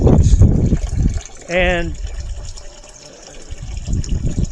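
Water from a hall bathroom toilet flush runs through a drain during a flow test, a steady rushing and trickling flow close by, with someone talking over it at the start and end.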